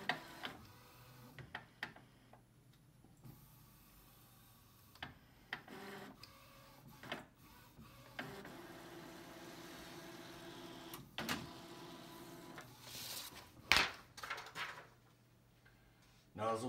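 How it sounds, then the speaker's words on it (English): An Epson SureColor P600 printer runs a nozzle check, giving a quiet, intermittent series of mechanical clicks, whirs and print-head movements over a low steady hum, with one sharper click near the end. "we're going to complete the nozzle check"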